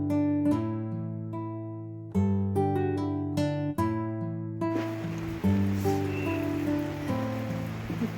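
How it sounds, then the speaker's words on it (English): Steady rain falls at an outdoor 18th-century-style market fair, a broad continuous hiss that runs under loud harmonic tones, likely music, throughout. "we're kind of soldiering on through this rain"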